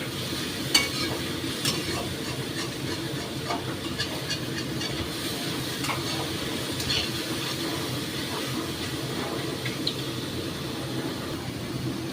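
Pineapple chutney sugar syrup bubbles and sizzles in a pan over high flame, a steady close frying hiss with a few light clinks throughout.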